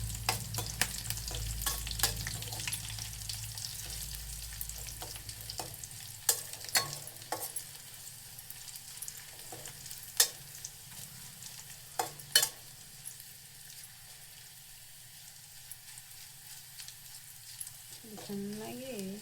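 Garlic tempering frying quietly in hot oil, a soft continuous sizzle with scattered scraping stirs and light clicks, fading slightly toward the end.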